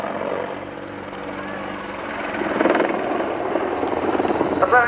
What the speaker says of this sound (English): The 10-ton helicopter can be flown back over its right shoulder through 360 degrees.